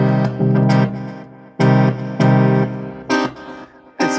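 A Prophet synthesizer triggered over MIDI by a UVI Falcon script arpeggiator plays several bright, bursting chord stabs in a stop-start pattern, with no talking.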